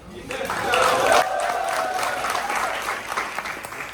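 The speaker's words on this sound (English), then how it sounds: "Give yourselves a round of applause" A room full of people applauding at a Democratic campaign meeting in Orange County, steady clapping with a few cheers while a voice speaks over it.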